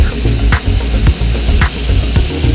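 A ginger, green chili and tomato puree fries loudly in a pan while a spoon stirs it every second or so, giving steady close sizzling with no talking.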